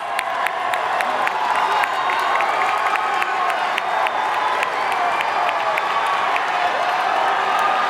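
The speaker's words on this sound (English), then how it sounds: "Let's give those contestants one more loud round of applause" A large pageant audience claps and cheers for the contestants after the preliminary evening gown competition, a loud, steady roar of applause with whoops and shouts held at a constant level throughout.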